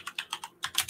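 Quick bursts of typing on a computer keyboard during a fragrance livestream, about eight distinct clicks in an uneven rhythm, close and fairly loud with no talk.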